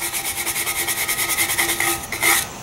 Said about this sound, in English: you can see the rust coming up as I'm scrubbing